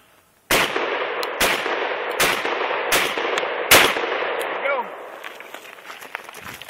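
Shotgun fired at steel targets in a side match at a steel shoot, five loud, sharp blasts at roughly one-second intervals close by, followed by fading ringing and faint voices.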